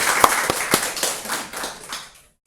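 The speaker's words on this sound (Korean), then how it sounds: "박수 올려드리겠습니다" A church congregation claps in a short, rhythmic unison pattern, with several distinct sharp beats of many hands at a steady pace before fading out to silence.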